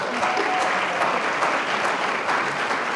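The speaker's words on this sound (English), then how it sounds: "Let's give one more round of applause for being here tonight." An audience at an evening county event fills the room with continuous, dense applause from many people, steady and fairly loud throughout.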